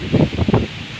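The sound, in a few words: strong wind rustling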